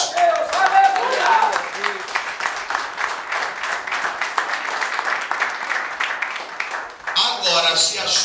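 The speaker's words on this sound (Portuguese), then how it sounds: "aplaudindo a Jesus" A church congregation claps and applauds steadily throughout, a dense, lively patter of many hands filling the room, with a voice speaking over the applause.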